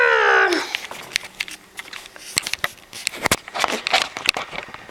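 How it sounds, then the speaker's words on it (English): A cat in a bag gives a short, loud meow right at the start, followed by soft rustling, crinkling and scattered taps from movement nearby. "it's a kitty cat"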